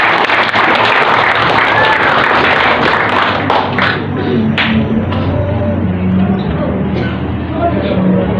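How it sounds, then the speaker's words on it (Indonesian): Applause at a church wedding blessing right after the exchange of wedding rings: dense, continuous clapping from a gathered congregation, loud throughout and fading slightly toward the end, with some voices mixed in. "kita berikan tepukan tangan"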